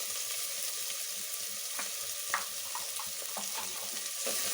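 Curry leaves and dry chilli sizzle quietly in hot oil in a pan while being stirred for tiffin sambar, with soft crackling and a few scraping clinks of a spoon, fairly faint and without voices.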